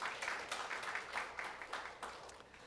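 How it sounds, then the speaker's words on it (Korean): Applause from a crowd, steady rapid clapping with swelling bursts throughout, moderately loud and without speech. "큰 박수 부탁드리겠습니다"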